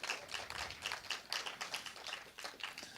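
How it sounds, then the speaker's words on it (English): A small audience claps at an astronomy society general meeting in an amphitheater at Griffith Park Observatory, with sparse, distinct claps in an uneven patter, faint and fairly close. "Give yourself a round of applause."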